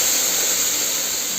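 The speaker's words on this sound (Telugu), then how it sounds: "సౌండ్ వస్తుంది చూడండి, అలా వస్తే మనకు మంచిగా పోపు కుదిరినట్టు అన్నమాట" Spices tempering in hot oil for dal, a loud continuous close sizzle and hiss that holds steady throughout with no voices.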